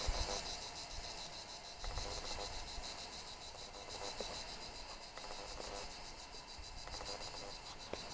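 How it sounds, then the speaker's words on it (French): Cicadas sing in a continuous dense, shrill drone around midday outdoors, steady and moderately loud with slight pulsing, no voices. "on écoute les cigales."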